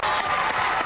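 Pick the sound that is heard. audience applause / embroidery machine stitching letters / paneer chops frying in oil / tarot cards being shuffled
audience applause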